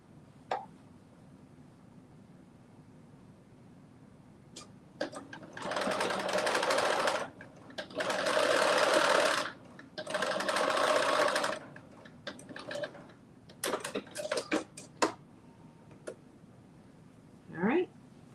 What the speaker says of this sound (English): In the seam allowance, just do a basting stitch.